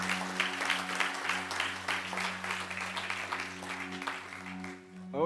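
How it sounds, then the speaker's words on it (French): Church congregation applauding to acclaim the Lord, a continuous burst of clapping at steady loudness over a sustained organ-like tone, tapering off at the end. "Est-ce qu'on peut acclamer le Seigneur pour eux?"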